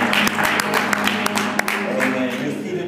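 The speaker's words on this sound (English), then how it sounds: "God deserves another hand clap of praise for being such a wonderful God." A church congregation claps in praise, a brisk burst of many hands clapping together amid crowd noise, fairly loud and close, with voices mixed in.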